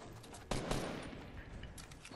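Rapid gunfire in a Fortnite squad match breaks out suddenly after a quiet moment, a burst of loud close shots trailing into scattered reports and game ambience.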